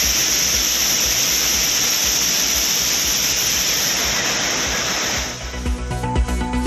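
The flooded Courtallam waterfalls roar as one loud, continuous broadband rush of water. It stays steady for most of the stretch and eases slightly near the end as some tonal background sound comes in.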